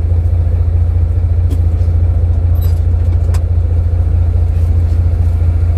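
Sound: 10-wheel truck engine running as driver engages gears

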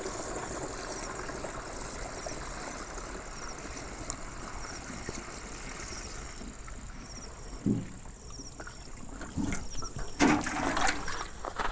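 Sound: water being added to a sprayer

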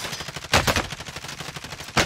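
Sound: gunfire in the video game Call of Duty Warzone

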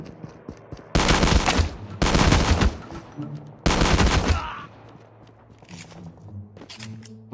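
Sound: shotgun fire in Call of Duty Mobile video game

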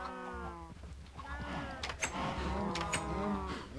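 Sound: cows mooing in Minecraft video game

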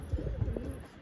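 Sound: pigeons cooing

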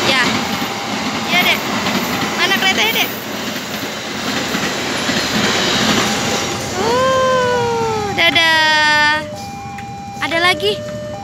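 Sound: KRL commuter train passing

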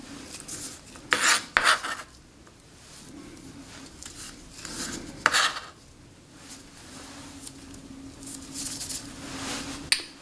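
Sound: knife chopping vegetables

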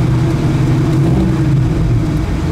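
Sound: small V8 engine with dual exhaust

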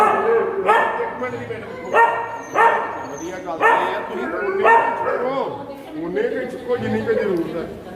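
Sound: dogs barking

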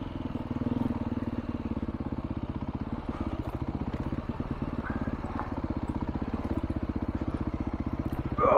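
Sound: Beta RR-S dirt bike engine riding slow singletrack

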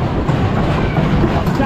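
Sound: roller coaster train running

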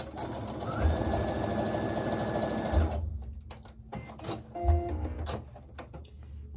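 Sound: sewing machine sewing a quilt piece

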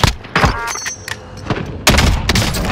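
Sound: sniper gunfire in Call of Duty Modern Warfare video game

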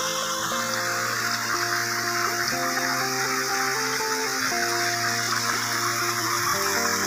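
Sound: small river flowing

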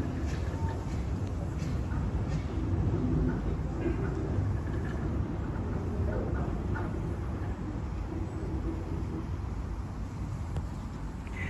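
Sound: train with fish van wagons shunting

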